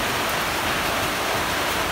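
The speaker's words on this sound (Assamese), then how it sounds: "আৰু বৰষুণো দি আছে" Steady rain falls outdoors in a dense, even hiss that stays constant and loud throughout, with no voices over it.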